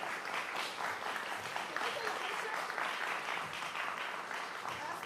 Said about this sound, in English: Can we get a big round of applause to them?